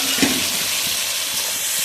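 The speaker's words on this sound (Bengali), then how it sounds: "চিংড়ি মাছটা ভালোভাবে কষা হয়ে গেল, ভাজা হয়ে গেল পেঁয়াজের সঙ্গে।" Prawns fry with onion and spices in a hot pan, a loud dense sizzle filling the short stretch, with a brief stirring scrape near the start.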